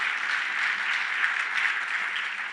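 Audience applause at a software conference lightning-talk session, a steady wash of clapping from a crowd that holds evenly for a couple of seconds with no talking over it.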